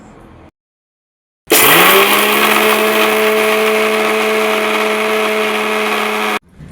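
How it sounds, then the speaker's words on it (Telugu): A mixer grinder grinding coriander seeds whirs loudly and steadily for about five seconds after a short pause, its motor hum constant with a gritty grinding edge. "కచ్చబచ్చగా మిక్సీ చేసుకున్న తర్వాత"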